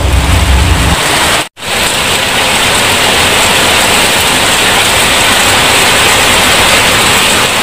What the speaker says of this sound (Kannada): ಫುಲ್ಲು ಮಳೆ ಸರ್